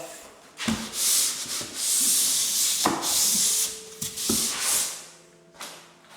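A drywall corner sander scrapes along an internal drywall corner in long hissing strokes up close. Soft knocks mark where the strokes change, and no one speaks.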